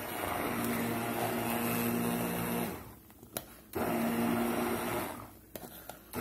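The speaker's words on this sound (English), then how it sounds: "Get our immersion blender in here. Go through here and get this blended up pretty nice." Immersion blender whirring through roasted garlic soup in a pot, a loud steady motor hum that cuts out briefly twice before starting again, close up with no talk.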